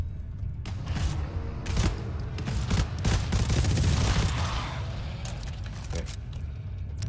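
Burst cannon and sentry gun fire in GTFO, rapid rattling bursts of shots piling up and peaking midway, with a low rumble beneath and no talk.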